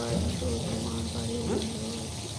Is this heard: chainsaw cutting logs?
no